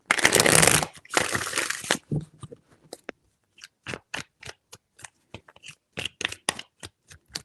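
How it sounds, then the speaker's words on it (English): A deck of tarot cards is shuffled in two loud, dense riffling bursts, followed by a run of sharp, separate card snaps and taps close by, with no talking. "Three shuffles."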